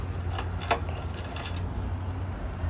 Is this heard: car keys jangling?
yes